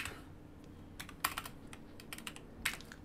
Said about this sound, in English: Don't mash your keys.